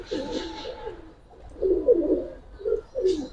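A pair of Giribaz pigeons coo nearby: one soft burst at the start, then a run of throaty coos after a pause, with no talking.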